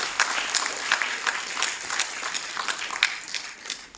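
Steady audience applause fills a hall at a Hindi-language cultural event in the Prime Ministers' Museum, many hands clapping densely and continuously at moderate distance, with no voices over it.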